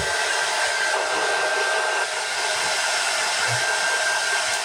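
A hair dryer drying red paint on a Walmart Santa bust, running as a steady loud whooshing roar with a faint whine, close and unbroken, with no talking.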